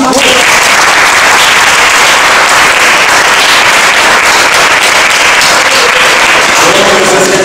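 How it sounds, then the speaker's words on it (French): At an end-of-year fencing club party, a crowd claps loudly for the young fencers, a thick, continuous burst of applause close by that stays intense throughout. "On les applaudit."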